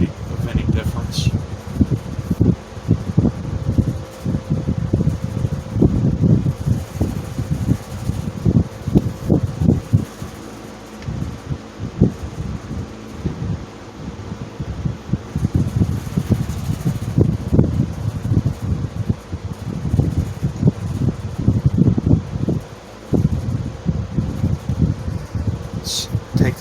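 A Wizard 6JC3020 box fan runs at medium speed with a steady whoosh of moving air, its blades buffeting the microphone. Someone talks intermittently close by over the fan.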